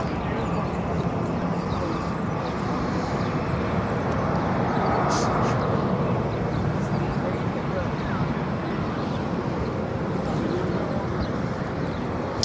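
A six-year-old Latam Boeing 787 Dreamliner jet airliner at Barcelona airport, departing for São Paulo, gives off a steady, broad engine roar that holds level throughout while people talk nearby.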